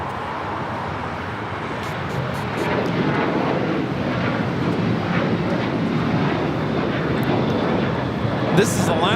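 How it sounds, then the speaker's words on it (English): An Alaska Airlines Boeing 737-800 taking off from LAX for Portland, a loud sustained jet roar that rises after a couple of seconds and holds steady, with voices faintly beneath it. "1127 taking off to Portland on a 737-800."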